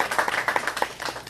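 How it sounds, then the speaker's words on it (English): A small outdoor gathering at a UPS store ribbon cutting in Ellenwood gives a brief round of scattered hand clapping, moderately quiet and over within about a second. "So let's give them a round of applause."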